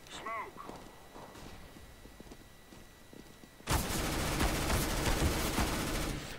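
Sustained automatic gunfire from a P90 spray in the shooter game CS:GO, loud and dense after a quieter stretch of softer game sounds and footsteps, continuing to the end.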